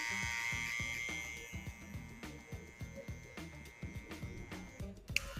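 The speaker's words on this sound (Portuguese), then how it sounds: "passei a shaver de baixo para cima marcando, agora de cima para baixo desmarcando" Electric shaver buzzing close up while trimming hair during a taper fade haircut, a continuous rhythmic buzz that pulses as the head is moved up and down across the scalp.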